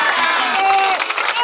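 Crowd at an outdoor political rally in Mondragone, Italy, breaking into applause and cheers, a dense steady wash of clapping mixed with voices and shouts throughout.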